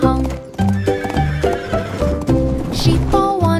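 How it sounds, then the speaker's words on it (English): Horses on a farm trotting past with clip-clop hoofbeats and a whinny, set within a bright sung nursery-rhyme tune with instruments carrying steadily over the hooves. "horses trotted slowly past"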